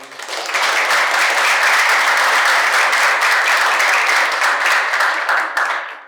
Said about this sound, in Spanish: quiero que le demos un fuerte aplauso a la profesora Paz González